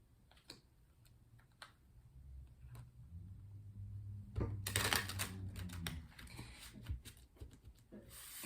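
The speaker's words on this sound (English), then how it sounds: "Let's continue by doing some shuffling so we can pull 4 tarot cards for the day" Quiet tapping and clicking of tarot cards being handled, then a short, louder riffling burst as they are shuffled close by.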